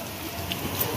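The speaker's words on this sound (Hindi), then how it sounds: "बारिश तो हो रही है ना" A brief wash of steady, hissing rainfall with scattered drops pattering on a surface.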